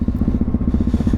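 A Yamaha MT03 660 single-cylinder motorcycle with an aftermarket, baffle-less exhaust, a loud, near, lumpy thumping with slight crackle, slightly uneven in rhythm.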